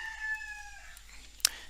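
A rooster crows once in the countryside of Bali, its call faint and at some distance, ending in a drawn-out tail, followed by a short sharp knock nearby.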